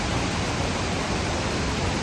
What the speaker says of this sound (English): I'm probably like 50 metres from the main waterfall, I'm still getting sprayed.